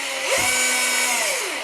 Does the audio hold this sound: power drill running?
yes